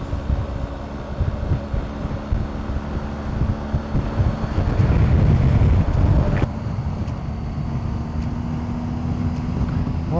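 Wind rushes and buffets steadily against the microphone while riding a motorcycle at about 90 km/h, swelling louder in the middle, over a low engine drone.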